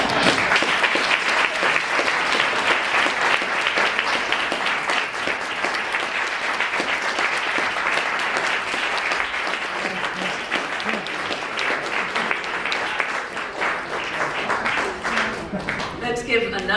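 An audience at a poetry reading bursts into sustained, dense applause, many hands clapping together at full strength before the noise thins out slightly toward the end.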